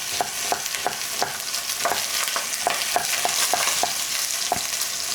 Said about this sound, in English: I could hear that lamb sizzling.